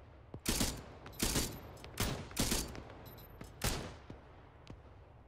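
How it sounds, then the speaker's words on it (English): Bursts of gunfire in Arma 3, five loud volleys spaced about a second apart, each a sharp crack trailing into a short echo, with no talk over them. "I'm gonna stop shooting at him because this is looking stupid."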